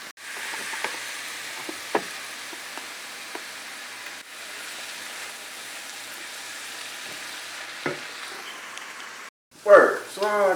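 Turkey burger ingredients sauté steadily in a pan, a continuous soft sizzle with occasional stirring clicks, close by, ending with a brief louder clatter; a voice talks faintly over it.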